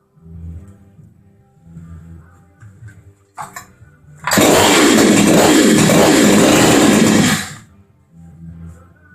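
A Huztl 372 clone chainsaw idles roughly and unevenly, then roars into a loud sustained high rev for about three seconds before dropping back to a sputtering idle, close up.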